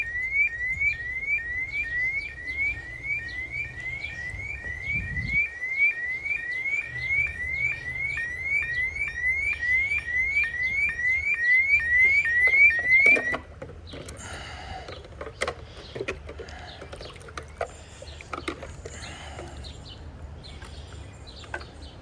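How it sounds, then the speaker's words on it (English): A loud electronic pool alarm repeats rapid rising chirps for about thirteen seconds, then cuts off, leaving faint scattered clicks and background noise. "I think you might be able to hear the alarm on it."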